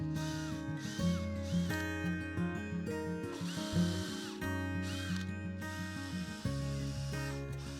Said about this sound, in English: He's just screwing some of these vine eyes in where we'll be running a tension wire between these